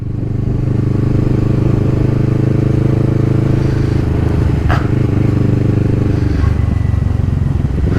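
Kawasaki Z650 motorcycle running steadily on a ride, a loud continuous engine drone with a brief scrape or clatter midway, captured close from a helmet-mounted camera.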